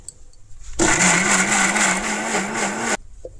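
A mixer grinder whirs loudly for about two seconds as it grinds onion, garlic and spices with a little water into a paste, starting and stopping abruptly against a quiet background.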